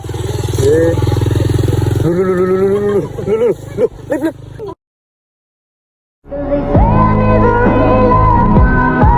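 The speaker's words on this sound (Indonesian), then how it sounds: "Kebetulan ada motor bawa suket" A motorcycle carrying grass drones loudly, cutting out briefly before returning, with voices talking over it.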